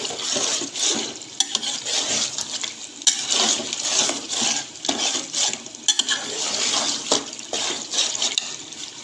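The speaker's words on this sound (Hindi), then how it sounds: "इसके अंदर मैं मुसलसल मैंने इसके अंदर चम्मच चला रही थी, इसको मैं बुनाई कर रही थी" A spoon scrapes and clinks steadily against a karahi as beef karahi masala fries, the rhythmic stirring strokes rising over a light sizzle, close and fairly loud.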